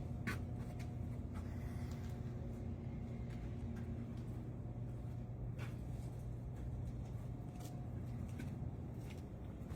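A Sharp 3580M gap bed engine lathe, swinging 37 inches over the bed with 80 inches between centers, runs in low range at 90 RPM, giving a steady, moderately quiet mechanical hum and rumble with faint ticks.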